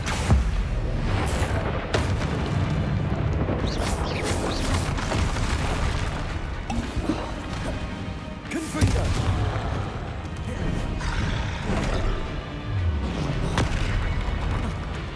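Repeated Confringo fire spells exploding in the Hogwarts Legacy video game, a steady run of booming blasts and crackling bursts over dense battle noise, with several loud hits spaced through the fight.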